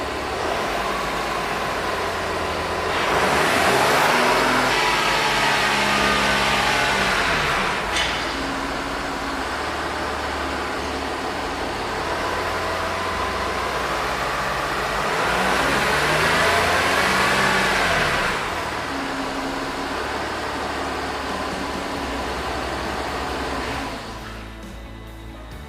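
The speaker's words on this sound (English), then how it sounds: "Right, the car's now cut out. I'll just try and start it." Jaguar XF 3.0d diesel with a gearbox fault idles and cuts out, its engine note rising in two separate bursts as restarts are tried, then dropping back to a low hum, heard alone without talk.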